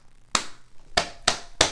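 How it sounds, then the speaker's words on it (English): A body percussion pattern of pats, claps and finger snaps for a first-grade music lesson: four sharp, separate hits with short gaps, crisp and close, without any talk. "they get to do pat, clap, snap"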